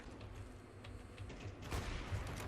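CS:GO gunfire, a quick burst of rapid shots from a game match against a low background, moderately faint and clustered near the end.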